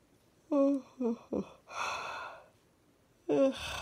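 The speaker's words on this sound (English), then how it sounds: "Because I'm just yawning." A person yawns aloud, a drawn-out voiced groan rising then breaking into a long breathy exhale, followed by a second yawn starting near the end; close and fairly quiet, no speech.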